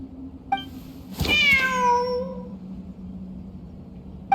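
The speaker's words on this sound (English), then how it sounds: "Wait, there it is! The cat!" A single drawn-out cat meow from the video game Genshin Impact, loud and close, rising then falling over about a second, with faint clicks before and after against a low steady hum.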